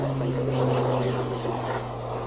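Tucano turboprop aircraft at an airshow, its propeller engine droning loud and steady with a strong low hum, no voices over it.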